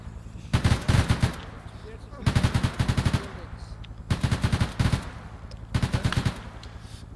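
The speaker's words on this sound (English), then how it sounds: "We're taking fire!" Automatic gunfire in Arma 3's Vietnam War setting: four loud, close bursts of rapid rounds, each lasting about a second, separated by short pauses.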